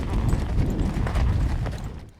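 Hooves of several horses clip-clop in a dense, continuous patter, steady and fairly loud, with a dusty rumbling undertone that fades slightly at the end.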